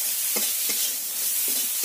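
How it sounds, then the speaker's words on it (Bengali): Ground spices such as roasted cumin and coriander powder frying in a pan for a chana dal: a continuous close sizzle with a few soft stirring scrapes, no voices. "মশলাগুলো ভালো করে ভেজে নেব।"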